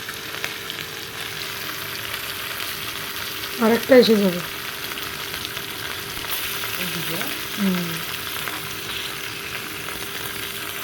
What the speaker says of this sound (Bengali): তো আমাদের মাছ ভাজা হচ্ছে এখন।